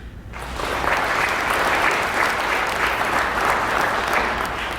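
Audience applauding at a Conner High School event in Kentucky, a sustained burst of clapping that starts abruptly and holds steady and loud throughout.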